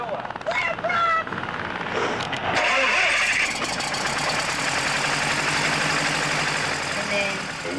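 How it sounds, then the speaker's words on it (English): A small propeller airplane engine cranks and fires up, sputtering through a few uneven beats before catching into a loud, steady idle that runs close by to the end. "what did you think when that engine fired up?"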